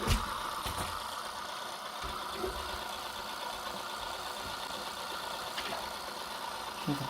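The motor of a Tamiya MAN TGX 26.540 XLX 6x4 RC truck runs in gear with a steady whine and buzz, crawling along in first gear, with a few faint clicks and no talk.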